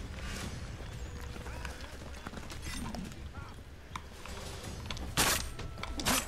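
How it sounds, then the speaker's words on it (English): A horse galloping in Assassin's Creed III, quick hoofbeats running steadily under game ambience, with a louder burst near the end. "Oh, my horse!"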